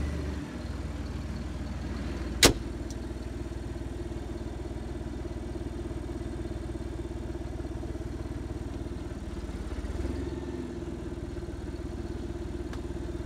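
Fendt 209F tractor engine running steadily on a dyno bench, a constant low drone near and even throughout, broken by one sharp click early on.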